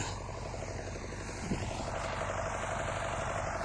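A heavy MTZ-80 tractor engine runs steadily at close range while cultivating with a KPS-4.2 cultivator, a constant droning rumble with a brief knock partway through.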